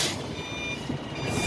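A semi truck reverses slowly under a trailer toward the fifth-wheel lock, its engine a steady close drone beneath repeated reversing beeps, with no clear locking clunk standing out.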